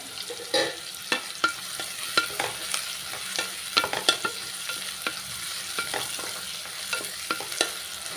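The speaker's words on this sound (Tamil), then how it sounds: "வெங்காயத்து கூடவே ஒரு கொத்து கருவேப்பிலை சேர்த்துக்கிறேங்க" Chopped onions and a sprig of curry leaves frying in a pan for a potato paya curry: a soft steady sizzle broken by repeated sharp scrapes and taps of a spatula stirring, close up with no voices.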